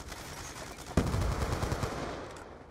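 Rapid automatic gunfire in the Black Ops 2 video game, a sharp burst opening about a second in and then a dense rattle of shots that gradually fades, heard with no talking.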